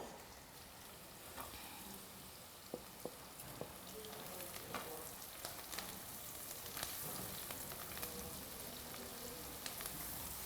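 Onions and garlic sauté in a pan for fried liver, making a soft continuous sizzle with scattered small pops and crackles, faint and without talk.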